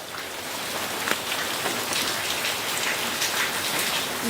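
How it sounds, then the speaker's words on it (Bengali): Heavy rain pours steadily at a dairy farm, a dense, continuous hiss with scattered drops striking nearby surfaces, loud and close with no voices. "দেখতে পাচ্ছেন দর্শক অনেক বৃষ্টি হচ্ছে"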